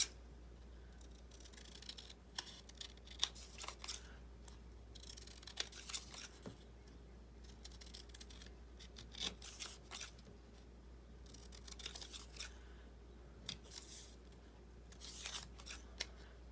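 Scissors snipping paper journal cards down to size, a series of soft, close cuts that come in irregular clusters over a quiet background, with no talking.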